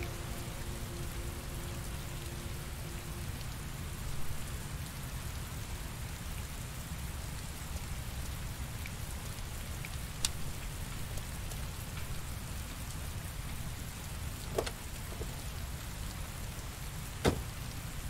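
Steady rain pouring down in the video game Heavy Rain, a dense even hiss of drops on surfaces lasting throughout, broken by a few sharp isolated clicks.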